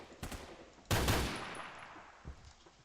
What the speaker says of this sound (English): I know I'm just firing rounds.